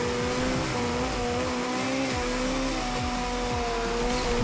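A car drifts in the Asphalt 8 racing game, its engine revving in rising and falling sweeps with a continuous loud tone throughout, no voices over it.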